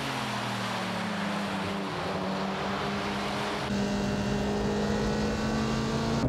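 A 1995 McLaren F1 race car's engine roars loud and steady on a back straight, its pitch climbing through the gears with distinct upshifts.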